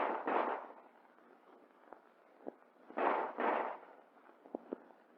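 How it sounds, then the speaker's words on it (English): A Colt 1911 handgun fires in quick combat bursts at a range, several sharp reports in clusters with a few fainter cracks between, distant and slightly muffled. "This is combat firing, quick, automatic, and accurate."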